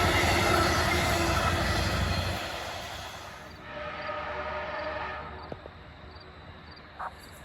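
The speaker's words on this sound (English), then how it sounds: "VRE 311 comes into the station making a little bit of noise as it makes its final stop for the night." A VRE commuter train pulls into Spotsylvania station on the CSX RF&P line for its last stop of the night, a loud rolling rumble that fades as it slows, followed by brief squeals and clanks as it halts.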